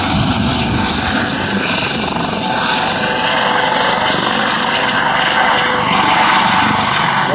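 The Great North Air Ambulance helicopter lifts off in breezy Blackpool, its rotor thumping and turbine whining loud and close in a steady, churning roar with wind buffeting throughout.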